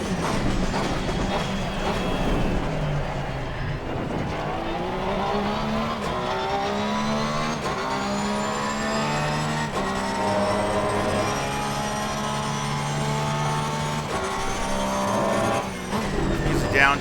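A Porsche GT3R race car engine in Assetto Corsa Competizione at COTA drones loudly and continuously, its pitch climbing steadily through the gears with a brief dip around a shift.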